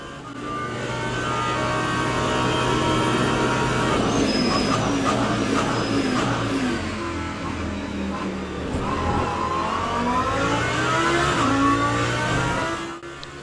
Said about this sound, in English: Listen to that V10 Lamborghini.